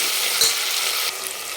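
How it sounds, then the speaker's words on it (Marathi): Masala paste for mutton curry frying in very hot oil, a steady broadband sizzle that carries on throughout at fairly even strength and eases slightly near the end. "तर हे आपण वाटण टाकून घेऊ आणि 2 मिनिट छान परतून घ्यायचं याला"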